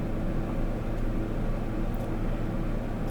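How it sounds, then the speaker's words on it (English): A PC cooling fan spins loudly inside a computer case, giving a steady, close whirring drone with a low hum that holds level for the whole stretch, with no talking. "the fan is a little loud"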